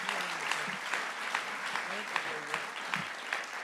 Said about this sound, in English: So I think we should have a round of applause for the original Millennium Brass